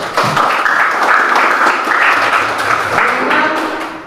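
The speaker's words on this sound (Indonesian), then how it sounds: "Berikan tepuk tangan untuk semuanya." An audience in a classroom gives a dense burst of applause after a group's presentation, steady for several seconds before tapering off.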